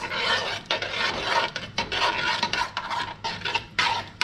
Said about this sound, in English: Put it in the pot with the sauce and the rest of the vegetables. Mix it.